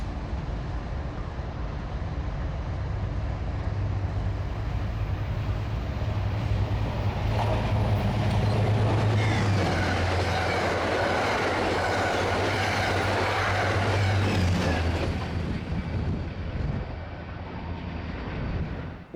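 A train speeds past a trackside camera near LA Union Station, a loud continuous rumble with rhythmic wheel clatter and a sustained low drone that swells mid-pass and then eases as it moves away.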